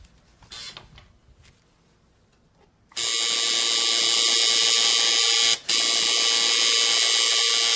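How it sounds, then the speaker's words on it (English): A tattoo machine runs against skin, starting suddenly after a quiet stretch of low rustling and then holding a loud, steady electric buzz close by, with one brief dip. "I'm going to go with the machine a little backwards here, but I'm going to go very slow so I make sure I get the proper penetration"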